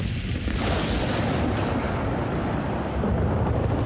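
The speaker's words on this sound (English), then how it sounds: "It's cold, it's windy." Strong, steady wind roars across the microphone up in a tree, a dense broadband rush with low buffeting that never lets up.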